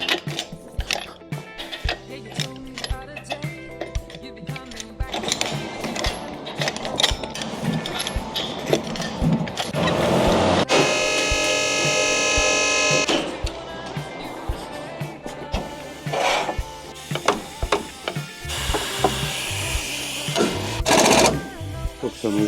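Mechanical clatter and whirring of tools removing tyres from a Nissan Patrol Y60 being lifted with Tough Dog suspension, with a long steady buzzing burst near the middle and intermittent clanks, under occasional talk.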